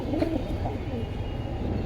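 Pigeons at a market stall coo in low, throaty murmurs that overlap into a dense, continuous background with a few louder calls, close by and steady.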